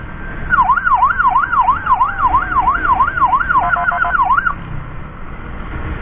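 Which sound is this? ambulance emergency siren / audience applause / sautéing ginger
ambulance emergency siren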